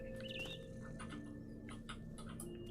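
A mama bird chirps in the video game What Remains of Edith Finch, with faint scattered tweets over a low, steady in-game ambient hum and soft pattering, heard quietly with no talk.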